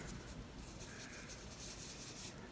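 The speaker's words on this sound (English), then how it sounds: "I am not being precise, just adding markings" A marker scratches and rubs across a die-cut paper card in quick, loose strokes, a soft continuous scribbling close by with no talking.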